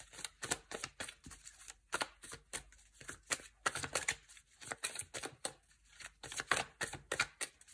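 Tarot cards shuffled close by in quick, repeated bursts of riffling, flicking and soft slaps, a busy rhythmic patter heard alone at low volume.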